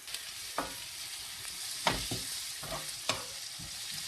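Garlic frying in a pan for muttar paneer, a soft steady sizzle under repeated scraping stirs and clacks of the utensil against the pan, close and fairly quiet.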